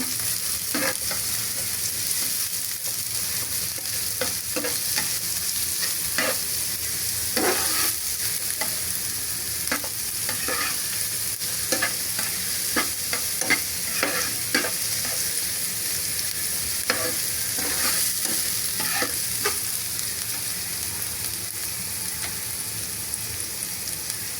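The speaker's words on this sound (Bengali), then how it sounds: "পেঁয়াজটা আমি তেলে নেব।" Chopped onion frying in hot oil while being stirred, the kind of base for chicken bhuna. A steady, close sizzle runs throughout, broken by repeated sharp scrapes and knocks of a spoon against the pan.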